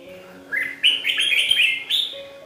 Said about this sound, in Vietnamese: con này nó tự nhiên nó căng lên nó ché nè mọi người